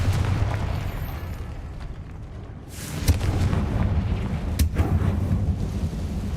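A Confringo fire-spell explosion goes off in the Hogwarts Legacy video game: two fairly faint, distinct bursts over a low background rumble.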